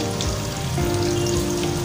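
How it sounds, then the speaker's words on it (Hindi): Spices and taro (arbi) sizzle steadily in a hot pan on the stove, a continuous close frying hiss with a faint hum beneath and no voices. "मसाले और अरबी को अब हम अच्छे से चलाएंगे।"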